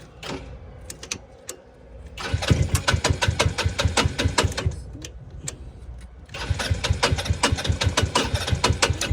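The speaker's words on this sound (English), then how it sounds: "we should have the ability to crank the starter" The starter on a Talon GSX 150 R2 cranks an engine that will not start, in two long runs of rapid, loud chugging pulses separated by a brief pause.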